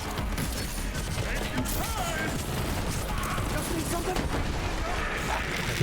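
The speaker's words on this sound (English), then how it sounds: "The explosion there just killed everyone around him" A dense stretch of Borderlands 3 combat brings bursts of gunfire, crashing impacts and explosion booms, all loud and continuous, with a player's voice mixed in.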